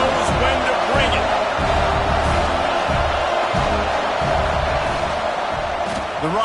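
A football stadium crowd at a Dsl vs USC game roars steadily and loudly throughout, a dense wall of cheering with rhythmic surges, while a play-by-play commentator talks over it.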